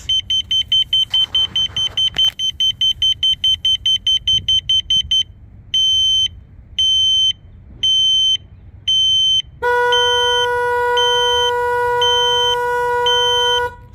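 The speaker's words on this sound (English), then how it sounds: "So now the horn's going off." A Child Check-Mate System alarm first chirps in rapid, high repeated beeps, then pulses in longer evenly spaced tones, and finally the horn sounds in a loud, harsher continuous blare, close and alone.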